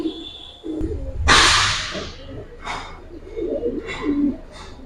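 Pigeons of an old Hurricane-blood line, kept by a fancier, coo in soft repeated bursts alongside a sharp flapping or rustling noise, with no one talking.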